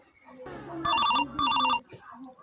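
A telephone rings in two loud, close bursts while a voice talks around it.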